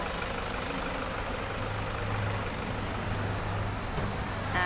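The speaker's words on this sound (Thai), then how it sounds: "ตอนนี้สตาร์ทเครื่องยนต์อยู่ค่ะ คุณลูกค้าฟังเสียงเครื่องยนต์ได้เลย" A Toyota Commuter van's 3.0 diesel engine idles with a steady, even, low drone that stays constant throughout, heard alone at close range.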